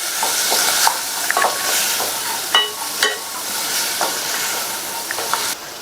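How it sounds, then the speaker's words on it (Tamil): Sambar powder with tomatoes sautéing in a pan over medium heat: a steady close sizzle with occasional scrapes and stirring knocks from a spoon. "மிதமான தீயில வச்சு இந்த சாம்பார் தூளை 2 நிமிஷத்துக்கு நல்லா வதக்கிக்கங்க"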